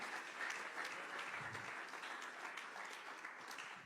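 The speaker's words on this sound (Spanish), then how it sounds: "Que le pueda usted dar un aplauso al Señor en esta hora" Church congregation claps together during a Spanish-language service, continuous dense applause heard faintly and at a distance, tapering slightly toward the end.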